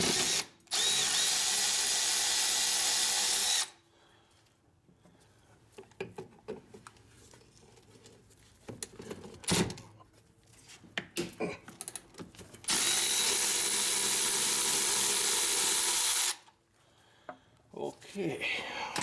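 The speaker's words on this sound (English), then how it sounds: "Now, we'll loosen the caliper bolts." A power tool whirs loudly in two long bursts, loosening the rear brake caliper bolts on a 2013 Honda CR-V, with clicks, clanks and handling noises from the nearby work between the bursts.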